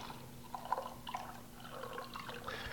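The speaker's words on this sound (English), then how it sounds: "This is cranberry juice. I'm going to go about most of the way with that." Cranberry juice poured into a cup, a soft liquid trickle with small drips and splashes, quiet and close, with no talking over it.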